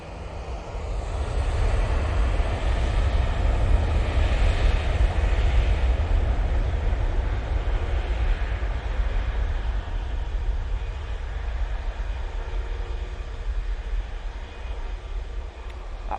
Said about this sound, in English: the Virgin Atlantic coming in from Atlanta